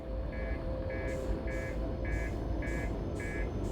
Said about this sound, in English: could you turn that alarm off, maybe?